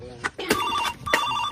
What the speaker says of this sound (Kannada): ಲೇ, ನಂದಿನಿ ಫೋನ್ ಮಾಡಾಕತ್ತಾಳ.